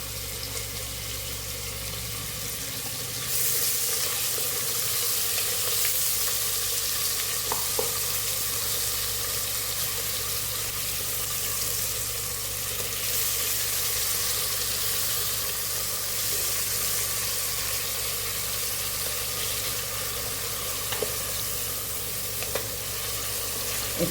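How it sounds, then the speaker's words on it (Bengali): A medium chopped onion fries in a pan with whole garam masala, giving an even, continuous sizzle that holds steady throughout with no talking. "এবার পেঁয়াজটা একটু ভাজা হয়েছে"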